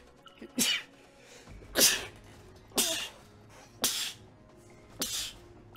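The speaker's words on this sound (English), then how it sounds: "those sneezes just came on all together" Five sharp sneezes burst out one after another at roughly one-second intervals, each a loud close-up explosive puff with quiet gaps between them and no talking.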